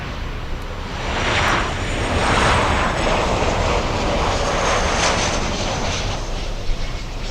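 A Lufthansa Boeing 747 jet departs Miami Airport, its loud engine roar swelling and holding in a sustained rumble with rising intensity mid-clip, heard alone without talk.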